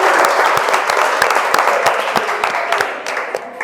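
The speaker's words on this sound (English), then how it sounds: "Please give Olamide a round of applause" A school debate audience at the New Media Conference claps for a participant, loud sustained applause with crisp individual hand claps standing out in the room.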